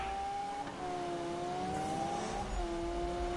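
A Lamborghini Aventador engine revs nearby, a sustained mechanical tone that climbs and holds with smooth pitch shifts and no speech over it.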